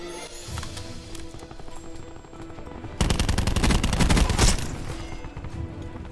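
Rapid automatic gunfire from Black Ops 4, a dense continuous burst of shots with a sharp, louder stretch of sustained firing in the middle, no talking.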